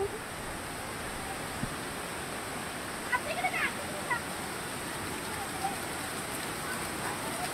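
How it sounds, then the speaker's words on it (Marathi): Rain falls steadily near the Nhavankond waterfall in Sindhudurg, a dense even hiss of drops with scattered faint taps, heard at low volume while a voice speaks quietly beneath it. "पाऊस आला पाऊस."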